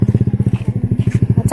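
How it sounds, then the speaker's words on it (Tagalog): A motorcycle putters close by with a rapid, even engine chug that pulses steadily, with a brief clatter near the end. "Uy, may motor be."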